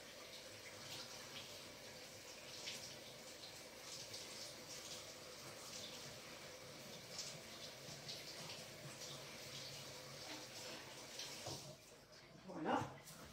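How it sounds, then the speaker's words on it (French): Duck breast rinsed under running kitchen tap water, a steady faint stream with splashing throughout, a brief louder splash near the end, while a person talks over it. "On va aller les rincer sous l'eau."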